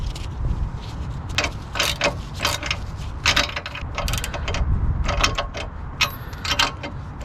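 A ratchet tightens the ball joint bolts on a 2006-2011 eighth-generation Honda Civic, giving bursts of quick mechanical clicking with pauses between them, loud and close, with no talking.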